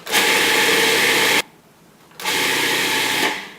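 Food processor pulsing raw broccoli pie ingredients with lemon juice: two loud bursts of whirring blade motor, a second long then about a second, split by a brief pause.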